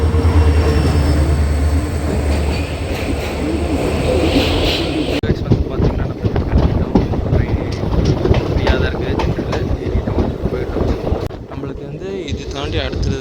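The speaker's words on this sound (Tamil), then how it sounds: "நம்ம ட்ரெயின் வந்துடுச்சு" A passenger train pulls into a station at Salem, India, a loud, close rumble of rolling wagons and clattering wheels buffeted by heavy wind noise on the microphone, shifting in texture midway as the carriages pass.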